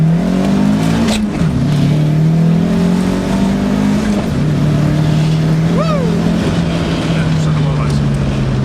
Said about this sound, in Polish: zademonstruję Ci jego przyspieszenie, póki jeszcze jestem